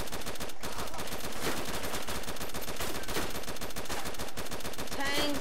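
Dense, continuous automatic gunfire in the video game DayZ, with rapid overlapping shots and bursts filling the whole stretch at a loud, sustained level.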